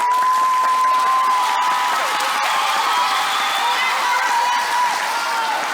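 Audience in Kourou applauds and cheers loudly to vote for a dance group, dense sustained clapping with whoops and shouts, close and continuous throughout.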